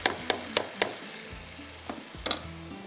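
Mutton and onions being bhuna-fried in a pan for a dahi masala, with a steady low sizzle broken by several sharp stirring clatters near the start and again toward the end.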